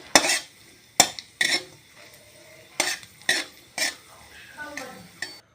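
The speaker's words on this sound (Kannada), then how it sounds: "ಇದೇ ಒಂದು ತುಪ್ಪದಲ್ಲಿ ನಾವು ಗೋಡಂಬಿ ಕೂಡ ಫ್ರೈ ಮಾಡ್ಕೊಂಡ್ಬಿಡೋಣ" Cashews fry in hot ghee in a pan with a close, bright sizzle, punctuated by about eight sharp scrapes and knocks of a stirring spoon against the metal, with no talking.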